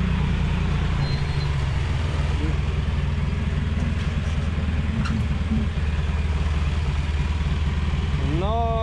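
A John Deere 1950 tractor with a disc harrow runs steadily in a field, its engine chugging loud and close throughout, with a brief rising rev near the end.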